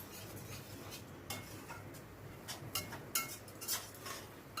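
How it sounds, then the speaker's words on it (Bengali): Spatula scraping and clinking in a pan as spice paste is stirred and sautéed with chicken stock, irregular metallic taps and scrapes over a steady low background, close and moderately quiet. "চিকেন স্টকটা অল্প অল্প করে দিয়ে মশলাটাকে ভালো করে কষিয়ে নেব"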